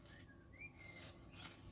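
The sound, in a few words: bird whistling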